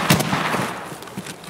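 Gunfire aimed at a scav in the video game Escape from Tarkov, a sharp loud shot near the start followed by a few fainter cracks and rumbling echoes over a noisy background, no talking.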